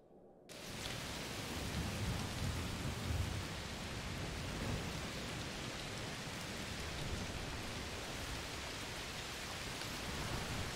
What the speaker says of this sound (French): Il pleut très fort Oui, un orage de chaleur sûrement